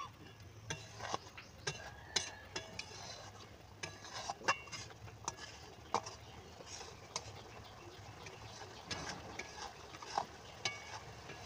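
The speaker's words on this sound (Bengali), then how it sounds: "এবার এটাকে মশলাটাকে পুরোটাকে কষাতে হবে।" Spice paste with ground ginger and a splash of water is stirred and fried in a pan, making a quiet simmering sizzle broken by frequent sharp clicks and scrapes of a utensil against metal.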